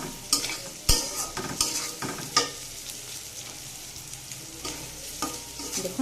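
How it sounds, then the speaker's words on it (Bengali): Green peas fried with spice masala in a pan for pulao, stirred with a spatula in brisk, repeated scrapes and knocks over a continuous close sizzle. "আর মটরশুঁটিটা বেশি ভাজা যাবে না, ভাজলে এটা ফেটে উঠে চলে যাবে।"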